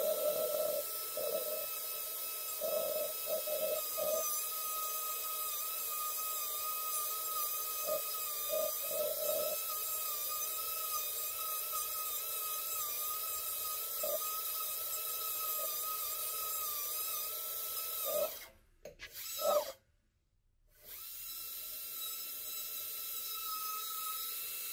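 A high-speed dental bur cuts a mesial box into a tooth, giving a faint, steady thin whine with light grinding that holds for about eighteen seconds, then cuts out briefly twice near the end before resuming.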